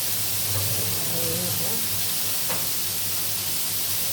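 Fish sizzles steadily in a pan with a constant broadband hiss of frying oil, moderately loud and close, with faint voice-like murmurs in the background.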